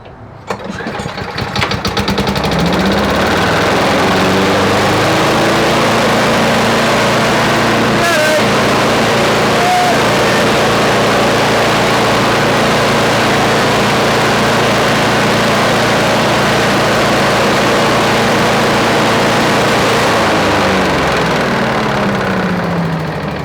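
A Briggs & Stratton engine on a Craftsman leaf vacuum chipper catches after a pull start and settles into a loud, steady run at full throttle with the choke backed off a notch, droning close up for about twenty seconds.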